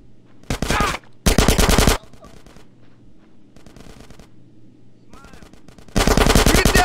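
Automatic gunfire during a GTA San Andreas mission, Reuniting The Families: several loud rapid bursts separated by quieter stretches of faint shooting and background ambience.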